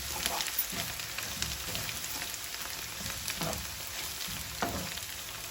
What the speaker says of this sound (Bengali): পেঁয়াজটা নরম হওয়া পর্যন্ত ভেজে নিব।